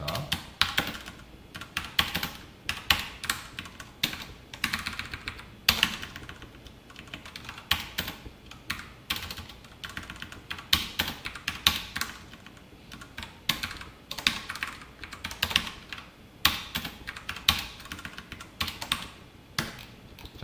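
Steady, fast typing on a computer keyboard while entering SQL code for a Spring Boot Q&A service, clicks dense and close with brief pauses, no talking.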